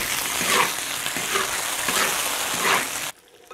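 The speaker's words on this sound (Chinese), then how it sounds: "爆香倒肉。" Pork hits hot oil in a wok along with ginger, garlic, cinnamon, fennel, dried chilies and Sichuan peppercorns, giving a loud crackling sizzle that swells in several bursts as it is stirred before cutting off abruptly.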